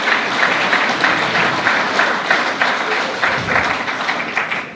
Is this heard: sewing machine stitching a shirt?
no